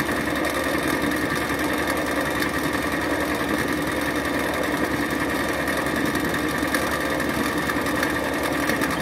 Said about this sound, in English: We want to make sure that the thread is winding evenly across the bobbin.